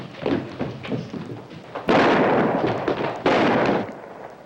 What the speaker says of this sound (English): Somebody shooting rats around the barn.